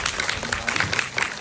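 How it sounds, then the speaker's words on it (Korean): An audience applauds the directors and actors at a short-film Q&A during a youth film festival in Eunpyeong, with crisp, uneven clapping that swells and dips in quick bursts from nearby. "고생해주신 감독님과 배우님들께 큰 박수 부탁드립니다"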